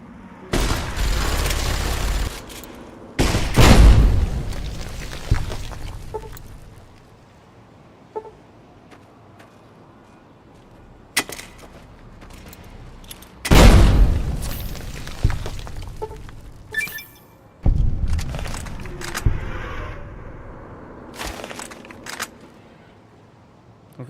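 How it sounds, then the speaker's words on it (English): Frag grenades blow up in Fallout New Vegas, a handful of loud, booming blasts spread out and separated by quieter gaps holding faint gunfire and game noise. "Let's get some frag grenades over there."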